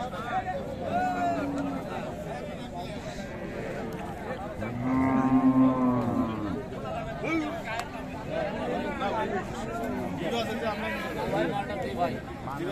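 Sahiwal cows and calves at Raniganj cattle market in Dinajpur, where one drawn-out moo rises midway over steady crowd chatter and people talking close by.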